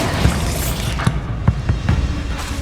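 The Bombarda spell from Hogwarts Legacy goes off in a series of deep, booming thuds, about five low punchy blasts over a rumbling game soundscape.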